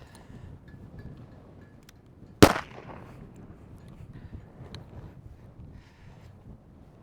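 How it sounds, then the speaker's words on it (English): A single sharp gunshot cracks once during an arena horse ride, loud and close, with a short ringing decay over faint wind and background noise. "she doesn't care much about the shooting at all, which is great"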